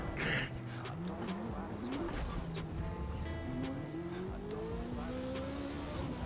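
A race car in Forza Motorsport endurance racing roars past with rising and falling engine tones and some tire squeal, loud and continuous under a person talking.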